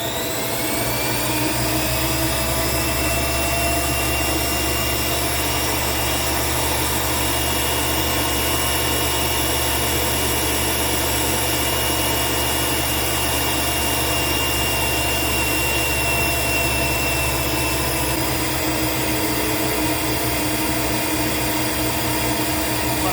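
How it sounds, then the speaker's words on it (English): A tool post grinder grinding a pro-stock tractor-pulling tire produces a loud, continuous high-pitched whine over a deep motor drone, steady and close throughout, with the low drone dropping off near the end. "now I'm going to grind the tire with tool post grinder"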